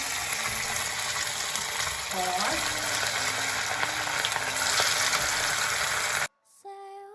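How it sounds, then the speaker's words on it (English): Pakoras frying in hot oil give a dense, steady sizzle and crackle at close range for several seconds before it cuts off abruptly, with faint talk. "Let's just fry these pakoras now."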